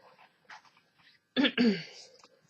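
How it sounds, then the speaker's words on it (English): A person clears their throat in two rough, forceful bursts, close by, after some quiet faint rustling. "I keep clearing my throat."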